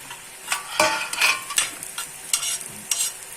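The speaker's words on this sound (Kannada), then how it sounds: "ಈಗ ಮಾಡಿ ಒಳ್ಳೆ ಫ್ರೈ ಮಾಡ್ತಾ ಇದ್ದೀವಿ." Masala fries in a little extra oil in a pan over a low flame, with a soft sizzle under a series of short, close stirring scrapes and taps.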